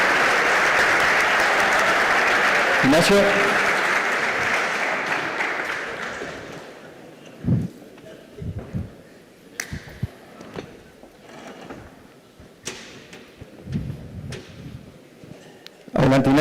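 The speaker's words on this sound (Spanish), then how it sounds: "Un aplauso para el ministro." Audience applause for a minister at a rice industry event, loud and sustained for about six seconds, then fading into scattered thumps and a few brief voices.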